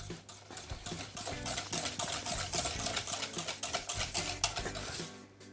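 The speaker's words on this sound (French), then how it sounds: "Je mélange." Praliné is stirred into a cream in a bowl, a quick continuous patter of utensil strokes scraping and tapping in a steady rhythm, close and soft.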